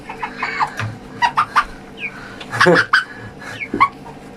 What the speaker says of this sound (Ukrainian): хочу показати, як у нас деякі бройлери їдять